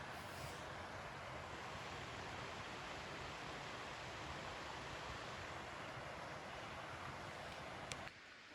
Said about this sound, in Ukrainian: Ми прийшли на водоспад лазний. Чуєте, як він шумить?